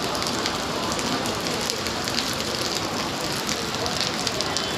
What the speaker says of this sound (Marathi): किती पाऊस आहे जवळ.